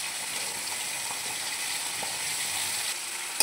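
Chopped banana stem tipped into a wok of onions frying in mustard oil, giving a steady close sizzle that runs throughout and ends in a short sharp clatter.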